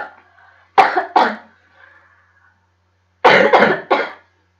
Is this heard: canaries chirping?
no